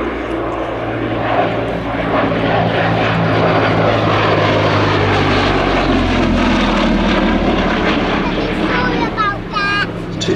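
A Gloster Gladiator biplane fighter runs its propeller engine in a loud, continuous drone with a deep throbbing hum, close and unbroken, with wind rush over the microphone throughout.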